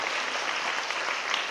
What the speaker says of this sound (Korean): 감독님께 박수 부탁드립니다.